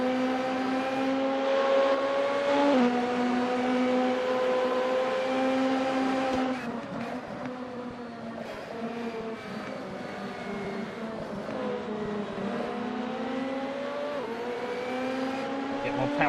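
Race car engine in the Assetto Corsa sim racing game, a sustained harmonic drone that climbs and drops with gear changes and throttle, steady and fairly loud throughout, with commentary faintly under it.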